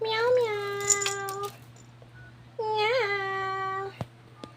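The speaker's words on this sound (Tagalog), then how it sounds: "Ang pusa kong makulit." A house cat meows twice, each a drawn-out, rising and falling call. The two calls are separated by a short pause, come from close by, and sit over a low steady hum and a few sharp clicks.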